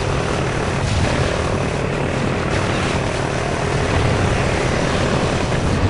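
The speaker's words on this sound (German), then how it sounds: "Da kommt ein Heli runter!" In the video game Call of Duty: Ghosts, a helicopter comes down with loud, continuous rotor thumping and engine roar that hold steady throughout.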